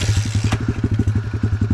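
A dirt bike engine revs in a fast, pulsing rhythm as the rider works the clutch, loud and close, with a brief clatter partway through.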